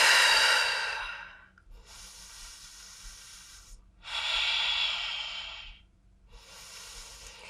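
Slow, deep breaths taken while holding a plank pose in a core strength workout: three long, airy breaths, close to the mic, separated by brief quiet gaps.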